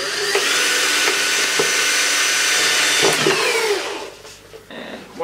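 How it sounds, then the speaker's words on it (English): A power drill whirs steadily for several seconds at close range, drilling through a plastic bottle neck, then winds down and stops, leaving quieter handling noises. "Drill a hole through the neck."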